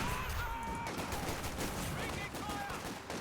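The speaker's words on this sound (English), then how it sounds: "that was a good mortar hit" Explosions from a mortar hit in a video game, a rumbling burst of booms and crackling blasts mixed with gunfire-like noise, heard under a voice talking over the game.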